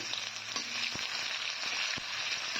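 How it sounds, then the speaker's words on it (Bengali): Onions frying in oil left from frying eggs, tempered with cumin and bay leaf: a continuous bright sizzling hiss close by, with a few soft clicks and spatters, no one speaking. "পেঁয়াজটাকেও কিছুক্ষণ ভেজে নিচ্ছি"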